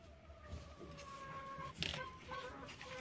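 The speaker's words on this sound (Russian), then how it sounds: "И куры лезут и лезут." Chickens cluck and murmur softly at a distance around a nest, with a few sharper squawks, over quiet background noise.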